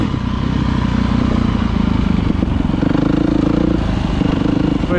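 A Suzuki DR-Z dual-sport motorcycle runs steadily nearby in open Nevada desert country, its engine giving a continuous loud, rough thrum with clattery mechanical texture and no clear revving.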